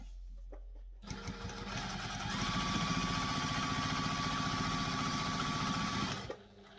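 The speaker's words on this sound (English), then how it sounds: "I don't stitch across, I just stitch down." A sewing machine runs steadily for about five seconds, stitching a sling bag with a fast, even mechanical rattle and hum, close up, starting and stopping abruptly with no talk.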